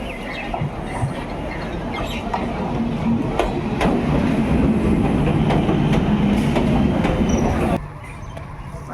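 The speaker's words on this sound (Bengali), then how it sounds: "স্টেশন থেকে তারপর ট্রেন ধরে পালপাড়া" A rattling train ride heard from inside a carriage: a loud, steady rumble with repeated clickety-clack wheel beats and sharp metallic clicks, easing off near the end.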